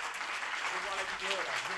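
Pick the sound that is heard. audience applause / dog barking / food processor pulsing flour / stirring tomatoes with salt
audience applause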